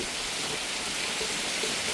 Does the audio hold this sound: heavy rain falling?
yes